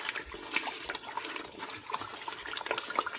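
Tomato sauce with crushed bouillon cubes splatters and bubbles in a cooking pot, a steady wet crackle of small pops and spits at moderate level with no talk.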